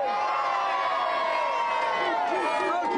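A studio audience at a televised video game show Christmas special cheers and whoops, a dense crowd roar of overlapping voices sustained throughout at steady loudness.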